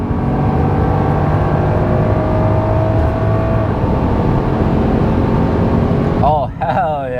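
BMW F10 sedan accelerating hard under full throttle, a loud continuous engine roar with rising harmonics held through quick gear shifts, then easing off near the end as a voice exclaims.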